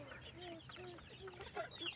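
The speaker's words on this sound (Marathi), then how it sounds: "बघा कोंबड्या आणि कोंबड्याचे पिल्ले कसे आवडीने खातात" Hens and chicks in a poultry shed cluck repeatedly while pecking at cherry tomatoes, with soft, overlapping calls and a few sharper peeps near the end.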